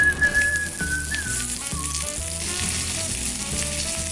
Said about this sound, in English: and then you sort of start searing it